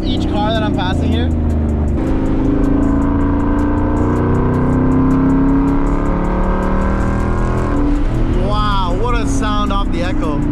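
Deep, rumbling exhaust of a Ford Mustang GT 5.0 S550 with an H-pipe, heard loud from inside the car as the engine holds a steady drone between revving bursts, with someone talking at the start and end.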